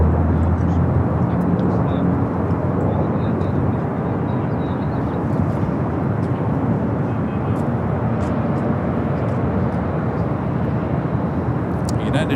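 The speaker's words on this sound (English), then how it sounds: "We'll head back to this 757. Next takeoff, heading back to Boston." A Boeing 757 jet roars on takeoff at Los Angeles International Airport, a sustained, loud engine rumble with broadband rushing noise that holds steady across the runway roll, while someone talks over it.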